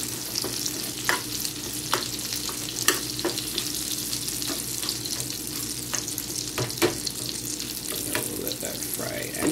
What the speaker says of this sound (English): burgers than lots of onions. Now let that fry up.